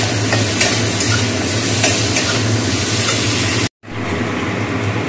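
Yardlong beans and pointed gourd sizzle in oil with five-spice seeds and bay leaf for a vegetarian chorchori. The hiss is loud and continuous and cuts out briefly near the end before resuming.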